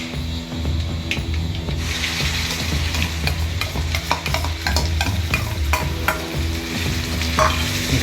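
Garlic and gongura chutney tempering sizzles and crackles steadily in a hot pan while a spoon scrapes and stirs it, close and continuous with no talk.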